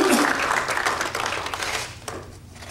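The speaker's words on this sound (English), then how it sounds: "Give him that round of applause." Church congregation claps after a sermon remark, a moderately loud burst of many hands that tapers and fades over a few seconds with a low room hum beneath.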